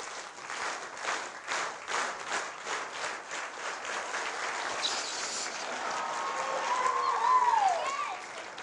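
An audience claps together in a series of rhythmic bursts at a science magic show, then breaks into looser, continuous applause.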